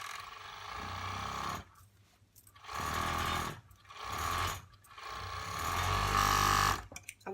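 An overlocker serging the edges of a boy's shirt runs in three or four loud whirring bursts, each lasting about a second, separated by short pauses.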